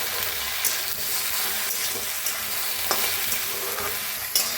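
Okra fries in oil in a pan with a dense, steady sizzle that fills the whole stretch, broken by a few faint scrapes as it is stirred, close up and with no voices.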